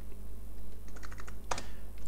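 Computer keyboard keys clatter as code is typed, a quick irregular burst of clicks with one sharper cluster of strokes, close and clear over a steady low room hum, no voices.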